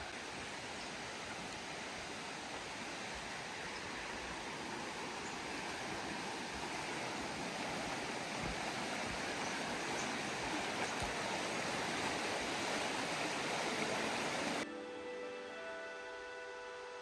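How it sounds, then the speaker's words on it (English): A mountain creek on a backpacking trail rushes continuously, a full, even hiss of flowing water that cuts off abruptly near the end. "Just going down to the stream."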